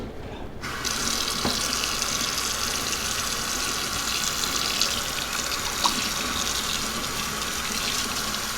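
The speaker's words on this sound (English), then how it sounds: "Got it inside now with the warm water." Steady stream of warm tap water running into a sink while rinsing a tie-dyed shirt, a continuous close hiss with a couple of faint clinks, no voices.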